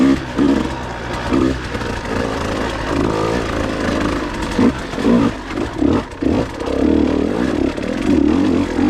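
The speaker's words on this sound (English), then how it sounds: "Pulling second gear there with a little bit of clutch work." A KTM 150 XC W TPI two-stroke dirt bike rides a trail over slick roots, its engine revving up and down in uneven bursts with clutch work and faint clatter, close and fairly loud.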